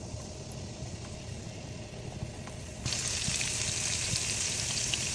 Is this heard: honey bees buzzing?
no